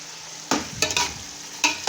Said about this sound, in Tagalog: Ilalagay na natin guys yung ating salmon.